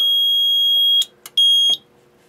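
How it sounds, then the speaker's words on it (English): An Ansul Autopulse 442R fire alarm releasing panel sounds a loud, steady high-pitched electronic tone close by, cut off, followed by a short blip, then resumed for under a second before falling silent. "you don't have to silence the tone and then silence the alarm separately"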